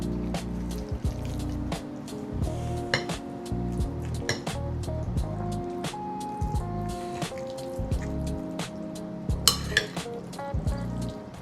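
Ground meat for Dagestani chudu filling being mixed by hand with greens, salt and spices: soft, wet squishing and slapping sounds, steady and close, under a bed of background music.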